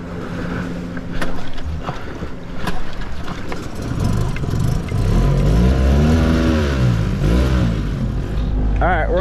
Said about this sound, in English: We're gonna get the engine started.